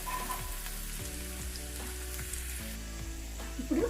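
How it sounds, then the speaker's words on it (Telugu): Onions fry in a pan, a close, continuous sizzle with spitting crackles and occasional stirring scrapes, steady and fairly quiet, with no talk. "కొంచెం ఉల్లిపాయలు వేగే వరకు ఉంచుకోవాలి."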